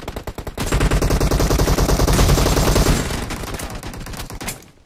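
Rapid automatic gunfire from the mobile battle royale game BGMI, with loud sustained bursts of machine-gun shots forming a dense rattle that fades slightly toward the end, no talk over it.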